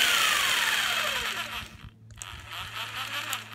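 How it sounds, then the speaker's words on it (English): A handheld jigsaw starts up with a rising whine that settles into a steady motor hum, close and fairly quiet, with no talking over it. "To start the jigsaw, pull the trigger."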